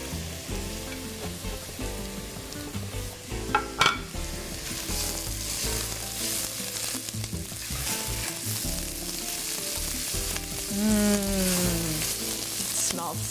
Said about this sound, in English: after your garlic is sauteed